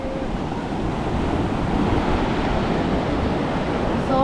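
Ocean surf and wind at the shore in Baler, Aurora, a steady, full roar of breaking waves mixed with wind rumble on the microphone, continuous and close.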